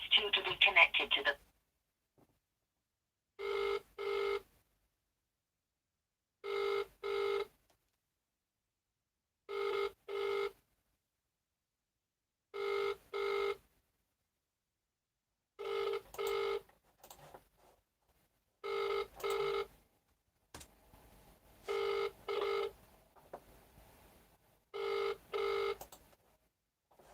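A telephone rings out on a call to a newspaper news desk, in evenly spaced double bursts, about eight of them, loud and clear. It ends in a short hiss and some muffled noise before someone answers.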